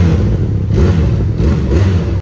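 A new motorbike engine revs close by, a loud, steady throaty roar that swells in a few surges before cutting off abruptly near the end.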